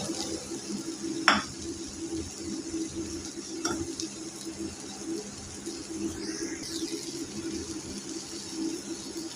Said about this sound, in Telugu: ఉల్లిపాయలు వేగిన తర్వాత కాకర ముక్కలు వేసుకోవాలి.